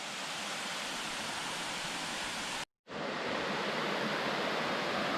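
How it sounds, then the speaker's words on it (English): Water flows down a small cascade on a summer camping trip, a steady, loud, close rushing hiss that cuts out abruptly for a moment midway before resuming. "This is just a cascade."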